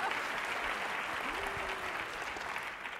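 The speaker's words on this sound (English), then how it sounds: "Yeah, you can clap for that." Sustained audience applause filling an indoor lecture hall at a media and digital-life talk, a dense, steady wash of clapping at moderate level with a brief voice-like tone briefly rising through it.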